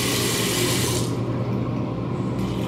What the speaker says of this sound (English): And then very high pressure sink.